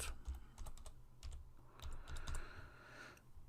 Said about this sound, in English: So we have a login admin, and we type our password.